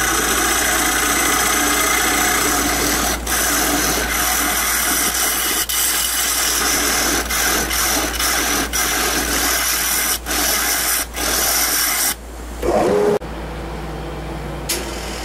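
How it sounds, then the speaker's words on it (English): A small carbide bit grinds out a drilled hole in a mahogany ring dish, a steady, close, raspy whirring scrape that runs almost unbroken before cutting off near the end. "I'm going to use my little carbide bit to get it kind of there, and then I'll scrape it out and make it smooth"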